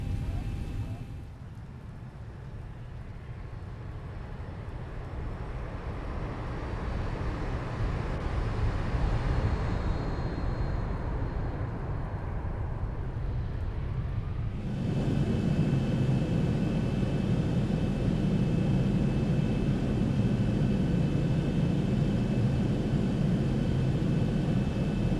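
Boeing 737-800 in the X-Plane 11 flight simulator game taxiing, a steady engine hum and rumble that swells and brightens about midway and then holds level, with no one talking.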